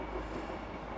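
A train rolls past in a brief, steady rumble of rail noise, a dense low roar with faint wheel clatter, heard alone without voices.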